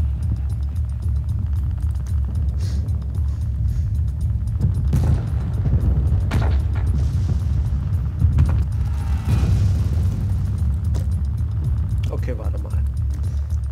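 Air strike explosions destroying tanks in the strategy game Realpolitiks, deep rumbling booms rolling under continuous low noise, with several louder impacts partway through.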